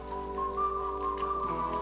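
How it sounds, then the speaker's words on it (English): Melodic whistling in a pop song with an old Western feel, a clear sustained whistled tune over soft backing music. "The whistling, really cool."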